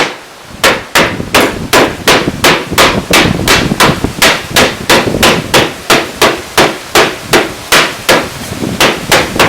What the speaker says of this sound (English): There's a ball peen hammer I had laying around.